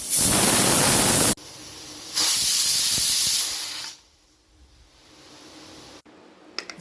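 A stovetop pressure cooker, cooking rice, releases steam in loud, harsh hissing bursts that start and stop, then fade to a quiet hiss.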